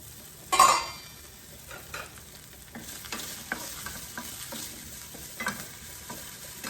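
Zucchini sautéing in a pan gives a steady close sizzle, with a loud clatter near the start and scattered stirring scrapes running throughout.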